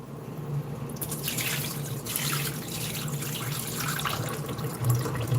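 Tap water runs steadily into a sink while rice is rinsed for a Jamaican oxtail meal, a continuous close splashing hiss with slight swells and a few louder splashes near the end, no talking.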